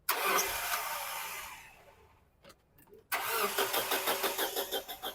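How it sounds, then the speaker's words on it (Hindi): A Toyota Hiace van with a 2TR engine, under repair for ECM fault code P0010, cranks loudly, cuts out into a short quiet gap with a few clicks, then cranks again in a quick rhythmic chug, close and loud. "गाड़ी स्टार्ट करो"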